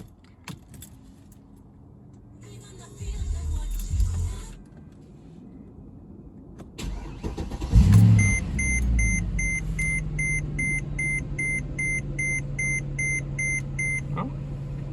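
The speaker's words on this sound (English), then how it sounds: "let's go ahead and start it up" A Mercedes ML63 AMG engine with a custom air intake cranks briefly after jingling keys and a few beeps, then catches and settles into a steady idle while chimes repeat in the background.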